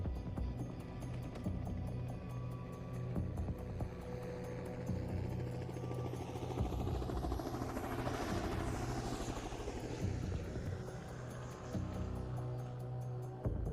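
A helicopter sound effect with a thick, pulsing rotor drone and a swelling sweep that peaks midway, as if passing close by, steady for the whole stretch with no talk.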